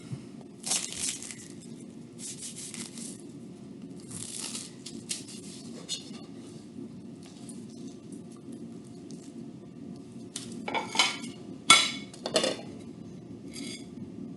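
A knife cuts a slice of warm strudel, giving soft, scattered crunches and taps of the blade against a plate over a low steady background hum. The cutting sounds are faint and intermittent, with no talk.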